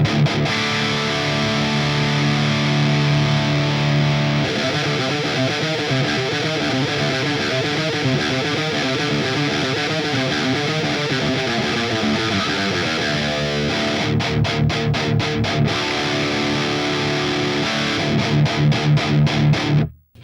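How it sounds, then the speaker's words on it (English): A heavy metal distortion guitar tone from an HX Stomp XL modeler, chugging riffs and sustained chords played continuously and loud, ending with rapid palm-muted bursts before cutting off. "At this point, this would be all I would use for a distortion sort of channel."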